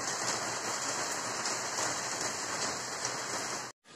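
Rain falling during a hailstorm in Kolkata, a dense, even hiss of drops that holds steady throughout and then cuts out abruptly for a moment near the end.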